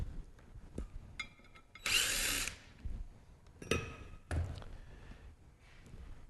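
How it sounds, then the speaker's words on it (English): Screws being backed out of a manual pump housing with a power driver, several short whirring bursts of varying length with small clicks and pauses between them, close and fairly loud, no talking. "once this is loose, you can remove these screws."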